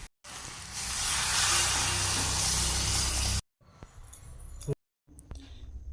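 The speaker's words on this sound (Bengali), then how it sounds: "এখন মাংসটা কষানো হয়ে গিয়েছে এখন গরম জল দিয়ে দেবে" Hot water poured into a pan of sizzling spiced mutton curry, giving a loud, rushing hiss and spray for about three seconds. Quieter bubbling and kitchen clatter follow.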